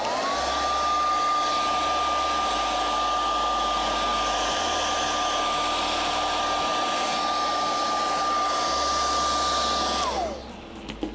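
A hair dryer blows steadily on a craft puppet piece, loud and close, running continuously for about ten seconds before switching off near the end.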